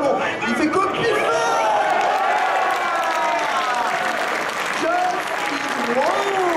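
Crowd applause fills the hall at the Stunfest 2014 Super Street Fighter II Turbo team finals, loud sustained clapping mixed with cheering voices and tonal game sounds.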